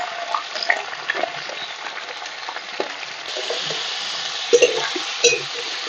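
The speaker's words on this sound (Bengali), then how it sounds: "কড়াইটা গরম হয়ে গেছে, কড়াই আমি তেল দিয়ে দিলাম। এবার আমি চিকেনটা প্রথমে দিয়ে দিলাম।" Chicken pieces dropped into hot oil in a kadai sizzle and fry steadily, with stirring scrapes and a few sharper pops near the end, close and fairly loud.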